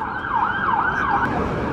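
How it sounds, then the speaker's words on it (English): Ambulance siren wailing in a steady rising-and-falling sweep, loud and close as it passes on a city street in Harrisburg, with road noise underneath. "I thought I'd wait for that ambulance to go by."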